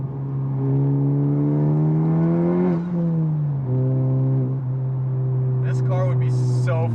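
A new Honda Civic Type R with a turbocharged engine pulls hard, its tone climbing steadily before a brief gear-change dip, then settling into a strong, close drone with a faint higher whine near the end.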